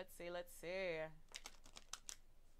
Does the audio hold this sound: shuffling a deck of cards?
yes